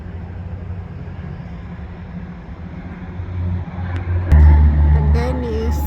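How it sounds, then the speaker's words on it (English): Aircraft taxiing out before takeoff at Birmingham Airport: a steady low engine rumble and whine that swells into a louder, closer roar near the end, with a tonal whine rising over it. "So we've got 2 aircraft that's taxiing out. It will soon take off"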